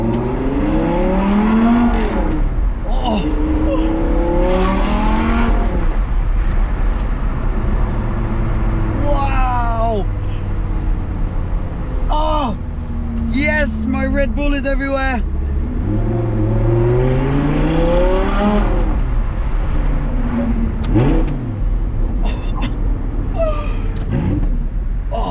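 An Audi R8 V10 Plus supercar fitted with a new exhaust revs hard in repeated sharp bursts, its V10 engine climbing and falling in pitch, loud and close throughout.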